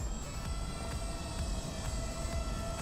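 A custom KUHL 35 freestyle FPV drone hovers with a steady, even whine and broadband rush at low to moderate level, holding constant without pauses.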